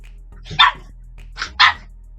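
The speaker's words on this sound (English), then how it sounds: "Oh my gosh, my puppy is barking." A Boston Terrier puppy barks twice in quick succession, two sharp high yappy barks close to the microphone with brief quiet between them.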